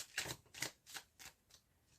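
Tarot cards being shuffled by hand in a series of about five crisp riffling bursts, close and fairly quiet, each fading out before the next.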